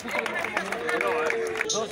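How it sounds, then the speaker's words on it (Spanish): Clapping and crowd noise at a rap battle, a busy stretch of applause mixed with cheers and voices. It stays moderately loud throughout. "¡Un aplauso para Jota que lo llama!"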